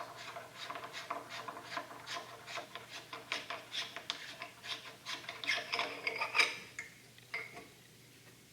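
Close, quiet rubbing and scraping of an oil catch can being unscrewed, a steady run of small rasping turns with light metallic clicks, fading near the end.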